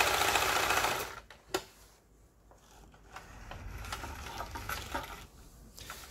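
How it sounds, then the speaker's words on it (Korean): A Singer Capri home sewing machine being repaired runs a rapid, steady mechanical stitching rhythm up close, then drops to quieter clicks and handling taps. "여기 바느질 패턴에 나와 있는 각종 기능들이, 예, 정상적으로 박음질이 되고 있습니다"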